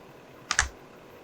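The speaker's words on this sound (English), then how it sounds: "Not sure why it took 2 mouse clicks to move it on." Two quick, sharp computer mouse clicks land close together, close and crisp against an otherwise quiet background.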